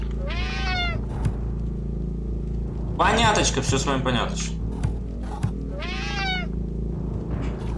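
Cat meowing in the Friday the 13th Killer Puzzle video game: two clear drawn-out meows at the start and near the end, with a burst of harsher cat cries in the middle, over a low hum while someone talks.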